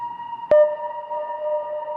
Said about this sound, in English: And then if you turn the size all the way up,